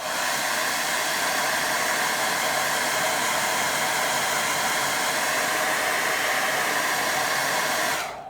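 A hair dryer blows steadily on a watercolour painting, a loud, constant close-up rushing roar running unbroken for about eight seconds before cutting off.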